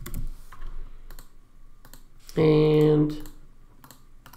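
Keystrokes clatter on a computer keyboard as a part name is typed in CAD software, a few sharp clicks spread across the stretch, with a short spoken word partway through.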